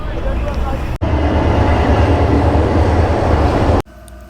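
A train on a railway line roars past close by as a loud, steady rumble lasting about three seconds, then cuts off abruptly.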